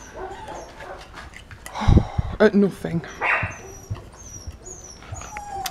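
Several dogs play-fighting indoors, giving short yips, barks and whimpers in a lively cluster, loudest in the middle, while a person talks over and between them.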